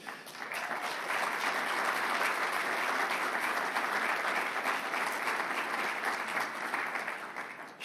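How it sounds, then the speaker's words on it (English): A climate conference audience breaks into sustained applause, many hands clapping in a dense, even roar that swells quickly and holds steady for several seconds before tapering slightly. "Shamelessly fishing for applause."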